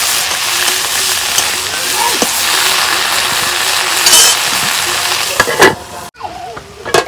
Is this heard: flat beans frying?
yes